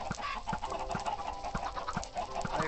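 Chickens cluck in the video game Hexxit, several hens overlapping in a steady, busy stream of short clucks that are fairly close and continuous throughout, with no talking.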